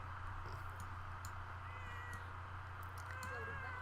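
Cats in The Sims 4 video game give faint meows over a steady low background hum, with several short calls scattered through the few seconds.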